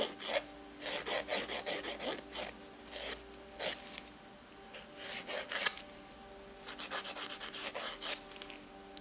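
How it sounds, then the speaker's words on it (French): A nail file rasps across a semi-permanent polish nail held horizontally, in quick close scratchy strokes that come in bursts separated by short pauses, soft and near with no talk. "Je mets la lime à l'horizontale pour enlever les petits résidus."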